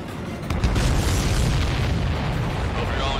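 Deep booming explosions from the Ace Combat 7 combat flight video game rumble continuously, with a heavy burst onset followed by sustained rolling blasts and crackle.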